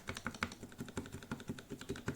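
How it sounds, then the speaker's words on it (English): Keystrokes on a lubed Royal Kludge RK61 60% keyboard with stabilized keys, a steady run of quick, soft, evenly spaced clacks heard close up with no talking. "There's the keys with the stabilizers."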